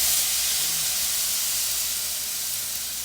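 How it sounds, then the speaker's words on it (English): White wine deglazing a hot pan of cooked shrimp, a loud steady steam-like sizzle and hiss filling the whole stretch with no talking over it. "I'm gonna get some white wine and I'm gonna deglaze that"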